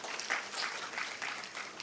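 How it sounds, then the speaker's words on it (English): A conference audience at an English language teachers' association event claps as panelists take the stage. The brief burst of applause is steady and moderately loud, with distinct individual claps and no speech. "Please give a big round of applause for our panelists."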